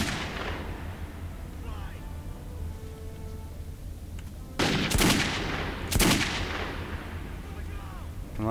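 Gunfire in Metro 2033: two loud, sharp shots ring out a little over a second apart over low underground ambience, with a player's voice heard around them.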